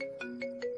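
A short electronic phone ringtone plays a repeating melodic pattern of tones, clear and close, with no talking.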